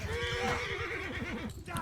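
Horses whinny amid battle noise in the Clan Warriors video game, a short wavering neigh sliding in pitch over clattering sounds and overlapping talk.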